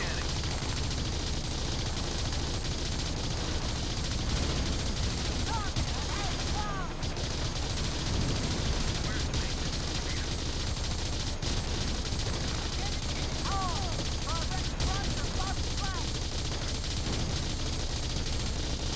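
Sustained gunfire and battle noise in the Xbox game Battlefield 2: Modern Combat, dense rattling shots with chirping effects on top, steady and loud throughout, with someone talking over it at times.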